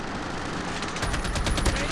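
AK-47 assault rifle fire in Call of Duty Mobile on the Suldal Harbor map: a rapid burst of automatic shots, moderately loud, over steady game ambience.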